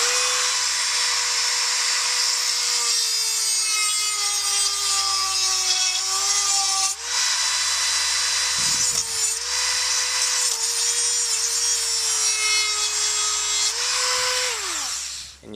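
A Dremel rotary tool whines at high speed while cutting a slot into a stuck screw head, a loud close grinding whir with small pitch dips as the cut bites, briefly interrupted once before running on.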